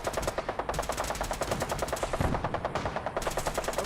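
Rapid automatic gunfire in Fallout 4, a steady loud stream of bursts with shots firing in quick rhythm for several seconds and no talking over it.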